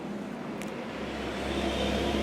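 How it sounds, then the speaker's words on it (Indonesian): A car drives past on the road outside a roadside house, a steady engine and tyre rumble that builds gradually, heard from indoors at moderate level. "Sorry, ada suara mobil."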